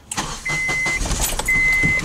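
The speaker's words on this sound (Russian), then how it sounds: "Заводится ли машина?" A car's engine cranks and fires after a big remodel, a starter whir followed by the motor catching and running at a steady, close, loud idle.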